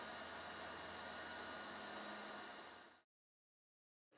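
Heat gun blowing hot air for welding ground gas protection membrane sheets, a loud steady broadband roar that runs for about three seconds, cuts off abruptly into silence, then starts again at the very end.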